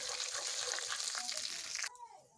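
Fennel seeds, black pepper, cloves and cumin frying in hot oil for a biryani, a steady soft sizzle close by that drops away abruptly near the end, leaving a fainter hiss.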